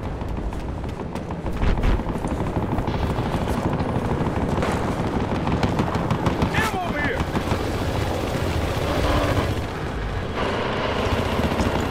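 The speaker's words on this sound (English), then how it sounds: "Looking at a transport chopper!" Transport helicopter in the Battlefield Hardline video game, a steady rotor and engine drone running under continuous gunfire, booms and shouted talk.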